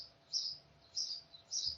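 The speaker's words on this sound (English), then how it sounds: "You should hear birds having an orgy outside your window" Birds chirp outside a window in three bright, clear bursts spaced evenly apart, moderately loud against a quiet room with no talking.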